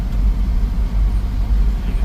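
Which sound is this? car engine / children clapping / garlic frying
car engine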